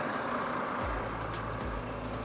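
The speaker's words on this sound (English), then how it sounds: "Got ourselves the concrete pump truck." A concrete pump truck idles at a house foundation pour, its diesel engine giving a steady low rumble with two deeper surges in the engine note and faint higher clanks over the top.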